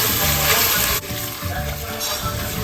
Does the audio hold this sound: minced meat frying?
yes